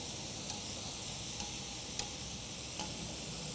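Corn tortillas frying in oil in a pan, a soft, steady hiss and bubbling crackle with a few faint ticks, distant and quiet.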